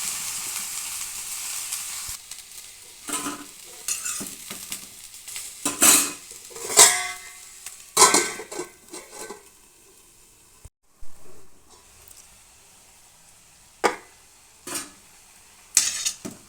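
Cauliflower pieces cook in a pan on medium heat with light sizzling, while a spoon scrapes and clatters against the metal in irregular bursts, separated by quieter stretches of soft frying.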